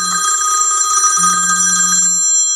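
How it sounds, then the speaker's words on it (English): An incoming call rings through a Pioneer DEH-X8700BS Bluetooth car stereo as a steady electronic ringtone with bright, sustained tones, clear and close, with no talking. "phone's ringing."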